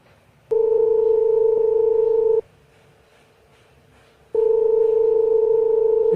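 A phone's ringback tone while placing an ordinary call over the cellular network: two loud, steady tone bursts about two seconds long, separated by a quiet pause, with no voices.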